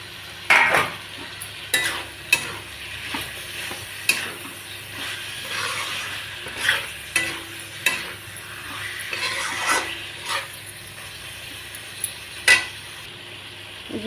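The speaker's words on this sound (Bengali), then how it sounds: "এখন এই যে ঝিঙ্গা অল্প অল্প ভাজছিলাম, এই ঝিঙ্গাটা এখন দিয়ে দেবো এটাতে" Ridge gourd frying and being stirred in spiced oil in a pan: a soft steady sizzle under a series of sharp scraping and clinking stirs at irregular intervals, fairly close.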